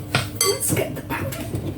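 A cheesecake pan is handled in a home kitchen, giving a short run of close metallic clanks and clinks, some sharp and bright, spread over about two seconds.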